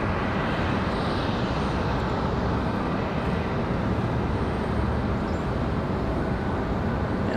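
An Icelandair airliner pulling into the gate at Raleigh-Durham produces a loud, steady, unbroken engine rumble and hiss that fills the whole stretch without letup.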